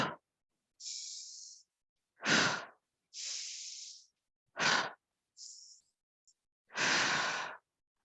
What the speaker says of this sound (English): So that is an example of a breathing exercise you can do with your child